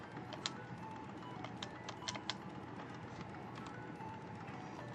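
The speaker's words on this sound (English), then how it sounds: "What you're going to want to do is hit tab on the keyboard." A few faint, sharp clicks from a computer keyboard key being pressed, spaced irregularly over a steady background hiss.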